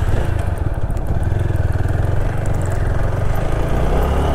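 A motorcycle engine running close by, a loud, steady rumble with a rapid, even firing rhythm and a slight mechanical clatter throughout.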